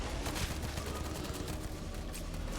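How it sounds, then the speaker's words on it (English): Ballistic pistol gunfire in the video game Starfield, a dense, steady run of shots and combat noise that fills the whole stretch at a fairly low level, with no voices. "Ballistic pistol is actually really effective because it burns them."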